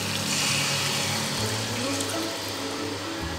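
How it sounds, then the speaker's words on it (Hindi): Water pours in a continuous rushing stream into a pan of chicken do pyaza gravy, close and fairly loud for several seconds with no talking. "अब हम लोग डाल देंगे इसमें पानी"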